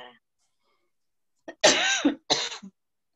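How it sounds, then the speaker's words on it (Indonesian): Two or three harsh coughs close by, a short burst followed by another, with a bit of faint talk just before. "Maaf batuk Bu."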